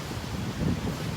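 Soft, steady wind buffeting a microphone outdoors near trees at sunset, a low rushing blow that swells slightly midway, with no voices.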